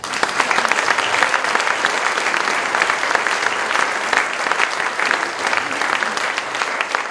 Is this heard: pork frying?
no